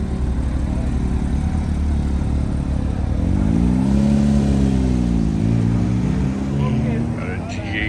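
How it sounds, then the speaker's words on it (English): A McLaren 600LT pulling in and a Porsche 992 GT3 rolling out in a workshop, one engine droning low before a sweeping rev rises and falls, close and fairly loud. "Got a 600 LT pulling in. Got 992 GT3 rolling out."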